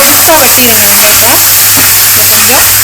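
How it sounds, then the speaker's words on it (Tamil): Onions sizzle loudly in hot olive oil with a steady hiss, while a spoon stirs and scrapes the pan and a voice talks faintly underneath. "நல்லா வதக்குவோம்"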